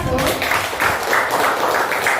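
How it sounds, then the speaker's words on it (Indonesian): Students in a school classroom clap for a group that has just finished a presentation, giving a dense, steady patter of hands mixed with voices and chatter. "sekarang tepuk tangan untuk kelompok 1"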